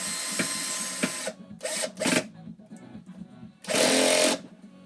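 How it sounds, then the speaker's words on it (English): Power drill set to its lowest mode driving screws: several short bursts of whirring motor noise, one brief and two longer, with a long steady run near the end, separated by pauses with faint background. "I do have my drill set to the lowest mode because I don't want to strip the screws"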